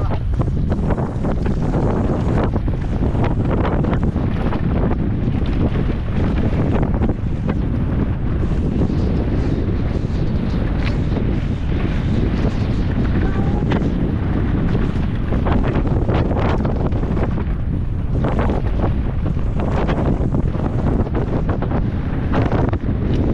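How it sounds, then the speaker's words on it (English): Strong wind roaring across a ski slope at Schladming, buffeting the microphone as a loud, continuous broadband rush that stays steady throughout. "So windy."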